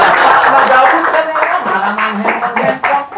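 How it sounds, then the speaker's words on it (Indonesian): Applause rings out on an Indonesian talk show, a burst of clapping that runs for a few seconds while voices keep talking over it. "tepuk tangan dulu."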